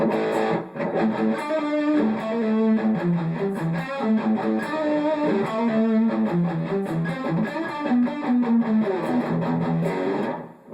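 Heavily distorted electric guitar through a Blackstar HT20 tube amp head and 2x12 cabinet plays a chugging, riff-driven 80s metal passage, loud and sustained throughout with no voices.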